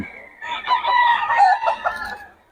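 Roosters crowing loudly and close at a busy early-morning chicken market in Bocaue, one long drawn-out crow with clucking fowl around it.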